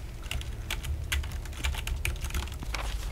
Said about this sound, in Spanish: Hay una máquina de escribir aquí.